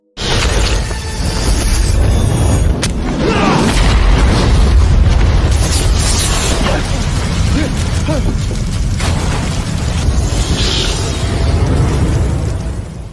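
A boat explodes and breaks apart in a loud, sustained booming roar full of crackling debris and rumbling low end that holds for over ten seconds.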